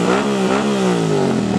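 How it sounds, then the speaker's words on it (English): A motorcycle engine revving hard nearby, a loud sustained roar that climbs and dips in pitch for a moment, heard from inside a passing car. "Rev it, brother."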